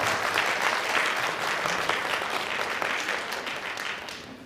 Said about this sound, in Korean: 이상철 교장 선생님을 큰 박수로 맞이하여 주시기 바랍니다.